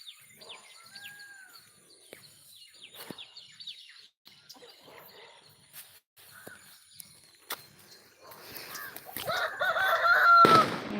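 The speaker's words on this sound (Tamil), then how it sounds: "சேவல் கூப்பிட்றான் பாருங்க" A rooster crows amid quiet outdoor sounds with scattered bird calls, followed by louder, harsher bird noise near the end.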